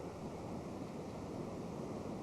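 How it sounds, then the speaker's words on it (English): A waterfall on a steep Himalayan river gorge roars as a dense, steady rush of water, loud and continuous throughout with no voices. "Check out this waterfall."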